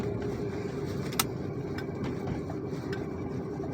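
A Cadillac Cimarron with 43,000 original miles drives along, its engine and road noise a steady, even rumble with a faint tick or two.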